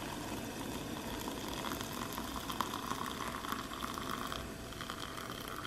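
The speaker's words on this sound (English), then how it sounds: "This water has been boiled twice." Water boils in a pot during home cooking, giving a steady close bubbling and hissing rumble throughout, with no talking.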